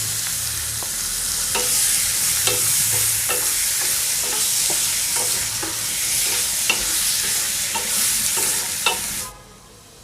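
Chicken liver frying in a pan with salt and ginger-garlic paste, a bright steady sizzle with rhythmic spatula stirring strokes, ending abruptly as the sound cuts away near the end.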